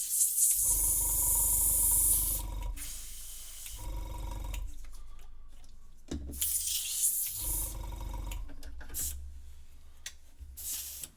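An airbrush sprays paint onto a tabletop miniature in short hissing bursts, loud and close, with gaps of quieter background between each pass.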